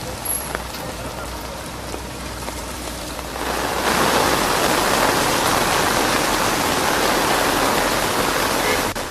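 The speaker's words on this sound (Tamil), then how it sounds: "மகாராஷ்டிராவில் புதன்கிழமை நள்ளிரவு முதல் பெய்து வரும் கனமழையால் சாலைகள் வெள்ளக்காடாக காட்சியளிக்கின்றன." Heavy rain pours down during flooding in Maharashtra, a dense hiss of downpour and running water that starts softer and swells louder partway through, then stays steady with no voices.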